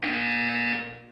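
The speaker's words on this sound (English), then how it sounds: "When you hear the buzzer, look down at the floor." A buzzer in the video game Portal 2 sounds one long, steady electronic tone, loud and alone, fading out near the end before a brief second blip.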